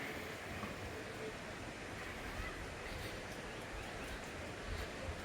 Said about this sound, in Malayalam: വലിയ മലനിരകളുടെ താഴ്വാരത്ത് പുഴ ഒഴുകുന്ന നല്ല ശബ്ദവും കേട്ട്